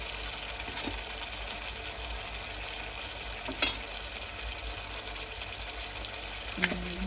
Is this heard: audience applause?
no